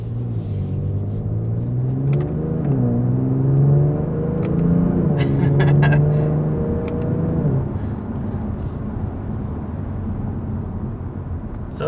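A 2022 Genesis G70 Sport with an 8-speed automatic, 365 hp, accelerates hard from inside the cabin, its engine drone rising in pitch through several gears, with a dip at each upshift before settling into a steady cruising rumble.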